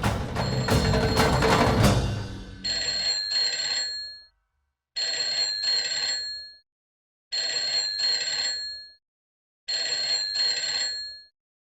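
A telephone rings in four evenly spaced bursts of bright trilling rings, loud and close. A burst of louder, busier sound comes before the first ring.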